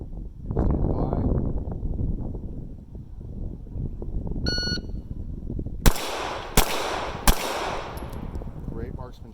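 Gunshots at an outdoor shooting range, three sharp loud cracks in quick succession near the end, preceded by an instructor talking and a brief electronic beep.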